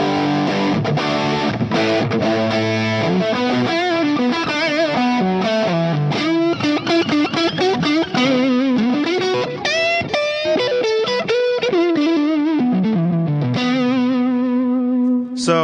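Electric guitar through an amplifier with the bass set above 9 for a fat low end, a clean-to-driven main tone played as a continuous run of sustained notes and melodic phrases, loud and close with no talking.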